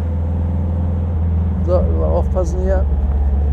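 A 1957 Porsche 356 Speedster with a tuned engine drones steadily from inside the car as it drives and accelerates, the low rumble running throughout beneath a man's speech.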